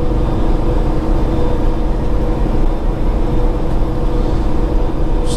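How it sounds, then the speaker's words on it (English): Truck engine brake working while descending the steep Fancy Gap hill, a loud, continuous low droning rumble that stays steady throughout. "So that engine brake is having to do its job."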